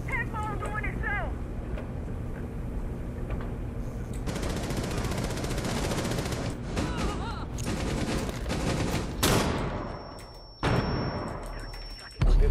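Rapid bursts of gunfire in Rainbow Six Siege crackle continuously, dense and loud, with game sounds and a voice mixed in, plus a sharp high tone near the end.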